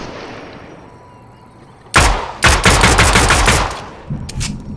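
Gunfire in Fortnite: after a quiet lead-in, a loud sudden shot is followed by a rapid burst of close, cracking automatic fire, then a couple of shorter shots trailing off.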